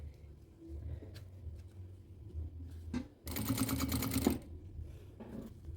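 Sewing machine stitching a quilted case, a fast steady mechanical whirr running for about a second near the middle, loud and close over a quieter background hum.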